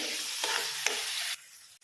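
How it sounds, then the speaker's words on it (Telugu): Chutney ingredients fry in a generous amount of oil, a bright steady sizzle with a couple of stirring scrapes before it cuts off abruptly near the end. "ఇవన్నీ కూడా వేయించుకోవాలి"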